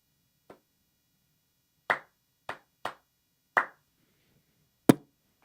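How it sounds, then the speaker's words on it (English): A few separate sharp claps or snaps, about six isolated hits spaced irregularly, close and dry in an otherwise quiet room. "Round of applause for you, brother."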